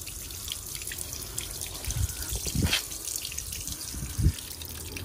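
Water flushes through a clogged boiler plate heat exchanger on a Viessmann boiler, heard as close, irregular splashing and dripping with a few louder gurgles and splats over a steady trickle.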